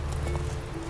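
Roach the horse in the video game The Witcher 3 trots with a soft, quick clip-clop of hooves under a low, constant ambient rumble.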